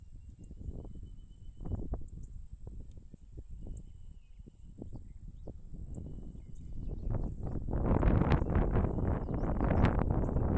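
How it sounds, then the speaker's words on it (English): Gusty wind buffets the microphone in low rumbling bursts during a drone flight test, growing louder and more constant toward the end, with a faint high whine in the background. "Boy, it is very windy right now."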